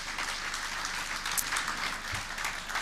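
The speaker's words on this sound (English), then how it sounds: "A hand of applause to her work." Audience applause for a woman honoured at a technology and gender equity event: steady, moderately faint clapping from a crowd, continuous and even throughout with no voices standing out.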